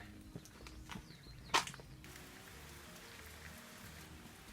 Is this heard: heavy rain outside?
yes